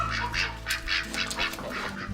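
Ducks quacking in a group, a run of repeated nasal calls in quick succession, close and fairly loud, with no talk over them.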